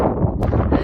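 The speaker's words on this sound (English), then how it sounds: "Okay, it's got very windy in this stretch." Strong wind gusting on a mountain path near a cliff in near-zero visibility, a loud continuous roar buffeting the microphone for a brief moment.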